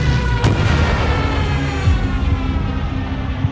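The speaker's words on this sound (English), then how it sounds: "dive bombing, level bombing." Repeated booms of bombs exploding over British troops on a beach during World War II, a dull rumbling barrage with a sharper blast early on, heavy low-end roar continuing throughout.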